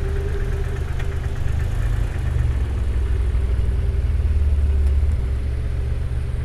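A Rover R8 car engine idles nearby at a classic car show, a steady low rumble with a faint knocking rhythm and no voices over it.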